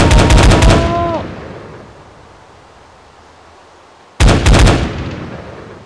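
Video game gunfire rips out in a rapid automatic burst that echoes away into a long fading tail, then a second burst cuts in abruptly; a voice is briefly heard at the start.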